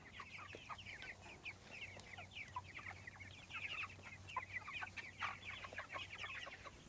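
Cornish Cross meat chickens cluck and chatter in a dense, continuous chorus of short calls, heard from close by with a low hum beneath.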